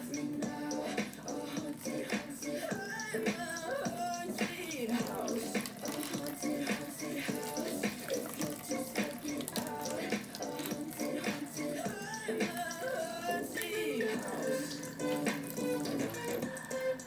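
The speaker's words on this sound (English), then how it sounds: "Alright, I'm gonna pour some water. Yes, water to wash up the coconut." Water is poured over a coconut to wash it while a vegan stew is being prepared, giving continuous splashing and trickling with scattered clatter throughout.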